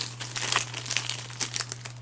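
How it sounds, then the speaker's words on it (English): A phone slides out of a plastic bag with close, crisp crinkling in a run of short bursts over a low steady hum, no talk. "Here is the phone. Comes in a plastic bag."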